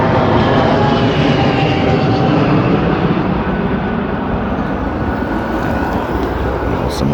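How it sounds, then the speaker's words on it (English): Low-flying airplane roaring steadily overhead outdoors in Woodside, Queens, a loud continuous engine rumble filling the whole stretch. "Some low-flying planes."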